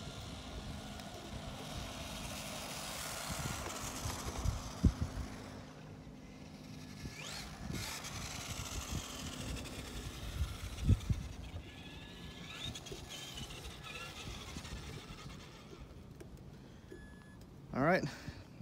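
A Traxxas 4Tec 2.0 RC car runs at full throttle outdoors on a battery speed run, its electric motor whine rising and falling faintly as it passes at a distance, under steady background noise with people talking.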